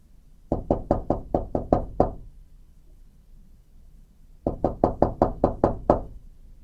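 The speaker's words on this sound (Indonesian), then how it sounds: "Ketukan itu semakin keras" Knocking on a window on a dark, rainy night comes in two bursts of about seven sharp, evenly spaced raps, loud and close, with a short silence between them.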